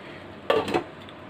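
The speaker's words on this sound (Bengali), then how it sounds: "এখন আমি আবার ঢেকে দিচ্ছি।" Lid set back onto a pot of ripe pumpkin sweet-sour chutney: a short metallic clink followed by a second light rattle, close and clear over a quiet room hum.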